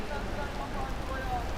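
Heavy rain pouring down on a Midtown Manhattan street during a storm, a dense, constant hiss of falling water close by, with no break in the downpour.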